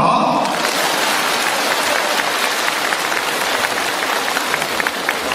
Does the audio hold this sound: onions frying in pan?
no